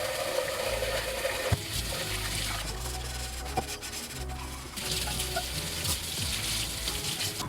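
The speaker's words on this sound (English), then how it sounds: "First thing I want to do is to wash it with some warm water and some soap" A Cuisinart non-stick saucepan is washed with warm water and soap, heard as a steady close scrubbing and rubbing over running water, with a few small knocks and a short dip in the middle.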